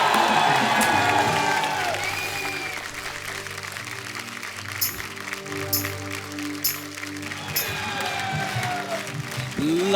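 An audience at a Hindi comedy show applauds and cheers as a singer is welcomed to the stage, with dense clapping throughout and whoops and shouts rising at moments, loud and close.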